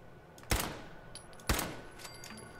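Two sharp, loud pipe pistol gunshots in Fallout 4, spaced about a second apart, each with a short decaying tail over quiet game ambience.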